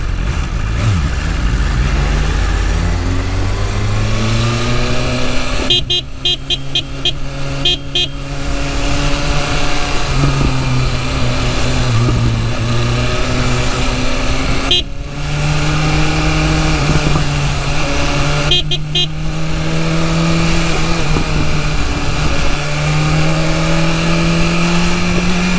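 A new BMW motorcycle engine while riding, a loud continuous drone with pitch rising and falling through repeated revving and gear changes, close to the rider and with no talk.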